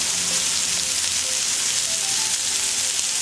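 Beef burger sliders topped with sliced cheddar cheese sizzle steadily on a hot griddle, a continuous close frying hiss with no voices.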